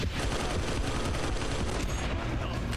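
Continuous rapid gunfire from the video game Red Steel, a dense unbroken clatter of shots hammering at cover, loud and close throughout with no talk over it.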